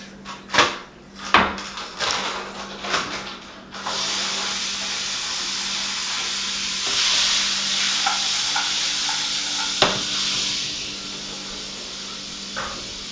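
Curry paste toasts in hot oil for a yellow Thai curry, with stir-fry vegetables added: a few loud spoon scrapes and clatters at first, then a steady bright sizzle and hiss that carries on close and continuous, with occasional light knocks and no talk.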